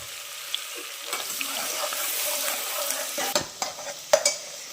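Chopped carrots and capsicum sizzle and fry in a pan for pav bhaji, with a steady hiss broken by scraping stirs and a few sharper clinks of the spatula near the end.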